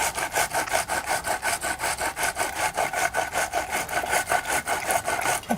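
Tomatoes being grated on a hand grater in a home kitchen, fast, even rasping strokes repeating steadily throughout, close and clear.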